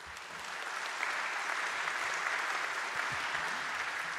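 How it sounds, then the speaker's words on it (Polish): An audience at a regional government anniversary ceremony breaks into applause that builds in the first half second, then holds as a steady, dense, fairly distant wash of clapping. "Prosimy o wielkie brawa."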